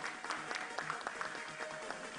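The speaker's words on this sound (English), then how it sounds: "Let's give a huge round of applause," At a felicitation ceremony in a conference hall, a crowd applauds an honouree with steady, moderately distant clapping throughout, fairly soft and unbroken by speech.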